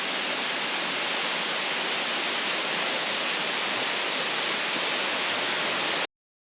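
Wailua Falls in Maui dropping 80 feet through lush greenery beside a road, a steady broadband rush of falling water heard close and unbroken, then cutting out abruptly at the end.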